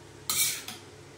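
Ground poppy seed paste hits hot oil in a wok with a sudden burst of sizzle, followed by a brief second scrape as it is stirred, then quiet.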